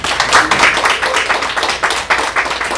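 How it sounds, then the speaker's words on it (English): Audience clapping at a literacy town hall, a smaller group with individual claps distinguishable in an uneven, lively rhythm, close and fairly loud. "but let's clap it up for one another."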